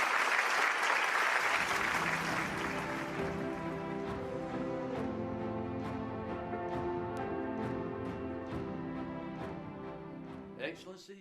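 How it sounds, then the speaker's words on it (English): An audience at a Rally of Hope event applauds to welcome speaker David Beasley; a bright burst of clapping at the start soon gives way to sustained music with tonal chimes. "Let us welcome Mr. David Beasley with a warm round of applause."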